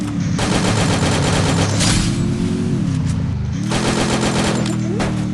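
M249 machine gun in the Free Fire video game, firing in long rapid sustained bursts with a brief pause midway, loud and close over a droning vehicle engine.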